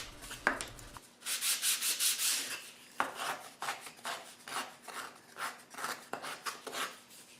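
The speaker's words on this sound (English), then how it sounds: "The smaller discs with no center hole are sanded in the same way, sanding both surfaces and then the edge" Repeated rhythmic rasping strokes of sandpaper rubbing on small wooden discs, close and fairly quiet, in a steady back-and-forth pattern.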